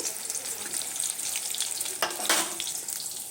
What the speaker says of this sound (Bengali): এখানে বেগুন ভাজছি